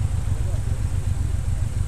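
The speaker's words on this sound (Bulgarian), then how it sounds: "Коли минават" Traffic on a central Berlin street, a steady low rumble of passing cars with engines and tyre noise filling the background, fairly close and continuous.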